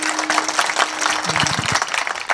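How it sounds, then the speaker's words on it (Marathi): An audience of men and women at a devotional kirtan claps together in a brief, loud, somewhat ragged burst of applause, with a voice briefly audible amid it. "तसं अशा टाळ्या वाजल्या पण सरदल्यासारख्या वाजल्यात."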